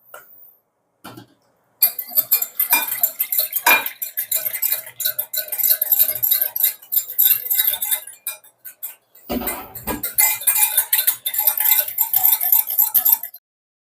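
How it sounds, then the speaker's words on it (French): Yeast being whisked into milk in a bowl for brioche dough, rapid light clinking and ticking of a whisk against the bowl in fast irregular bursts, with a short pause partway through and no talking. "Voilà, je viens de délayer la levure."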